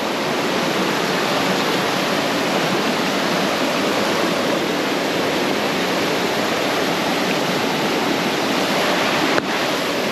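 A Jamaican waterfall pours over rocks, a loud, dense, unbroken roar of rushing water that holds steady throughout.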